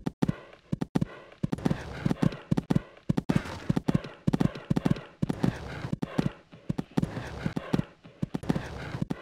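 Hoofbeats of a horse cantering on a cross-country course in the Equestriad 2001 game, a steady rolling three-beat rhythm of sharp clops repeating near and clear, with a commentator's voice speaking faintly beneath the footfalls.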